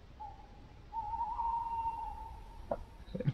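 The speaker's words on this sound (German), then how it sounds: "Das hört sich an wie so eine Eule" An owl calls from woodland along the Heidschnuckenweg hiking trail in northern Germany, a faint, long, steady hoot that lasts a couple of seconds against quiet outdoor background, followed by a few soft clicks and rustles.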